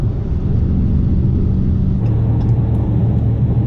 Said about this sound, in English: do a nice little rev match downshift